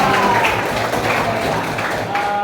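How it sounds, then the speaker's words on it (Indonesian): A classroom of students applauds in a dense, steady wash of clapping that fills the whole stretch, with faint voices mixed in. "Oke, tepuk tangan buat saya."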